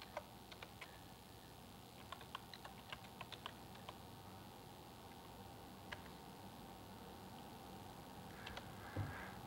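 Scattered clicks of typing on a computer keyboard, irregular bursts of keystrokes over a faint steady hiss, fairly quiet and close.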